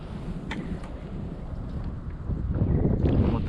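Wind rushes steadily over a small fishing boat drifting near a drainage pipe, buffeting the microphone with low rumbling gusts that swell louder toward the end.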